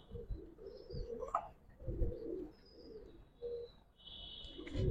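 A female pigeon of a Giribaz pigeon collection coos softly in a series of low, repeated coos mixed with a few thin chirps, faint and close by in a quiet room.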